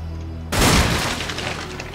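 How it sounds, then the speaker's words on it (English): Fireworks and confetti burst in the video game In Sound Mind, a sudden loud crackling blast that decays into a fizzing shimmer. "Poof! Confetti! Fireworks!"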